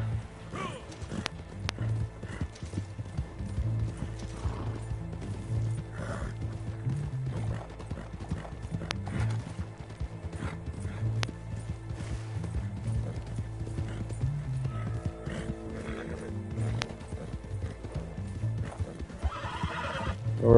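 A horse in the video game Red Dead Online gallops with steady rhythmic hoofbeats and whinnies now and then, continuous and close, with people talking over it.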